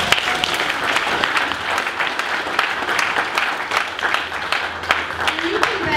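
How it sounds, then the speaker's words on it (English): Steady applause from an audience at a scholarship dinner, dense clapping throughout and fairly loud, with a voice speaking faintly underneath. "Let's just give a round of applause for that really quick"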